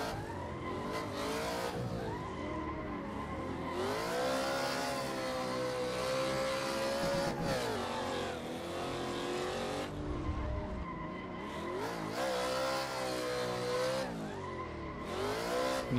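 An E92 drifted in Assetto Corsa on PC, its engine droning steadily near and loud with harmonic pitch rising and falling through gear changes, while tires squeal almost continuously under sustained slides.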